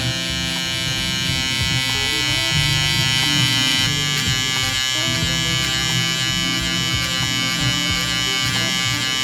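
An electric hair trimmer buzzes steadily and close up through a barber's taper fade, its pitch wavering slightly as the blades work through hair, with no talk over it.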